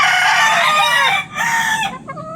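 A gamefowl rooster, a white kelso bred from a Hatch Gray line, crows loudly and close by. One long harmonic call breaks briefly partway through and then trails into a shorter final note.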